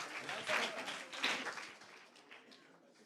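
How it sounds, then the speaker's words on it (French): A small audience at a talk on the mental health of self-employed people gives a short burst of faint applause that swells twice and then tapers off. "Vous pouvez l'applaudir s'il vous plaît."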